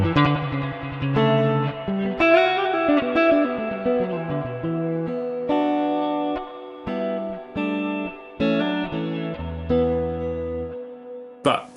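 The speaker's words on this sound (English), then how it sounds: "for that kind of surf effect" An electric guitar runs through a reverb pedal set for a surf-style wash, playing a melodic run of single notes and chords, each ringing out with a long, splashy tail, heard alone.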